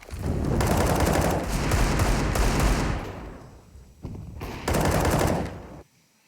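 Rapid automatic gunfire from the video game CS:GO on the Dust2 map at a professional esports match, with loud sustained bursts separated by brief pauses, ending in quiet.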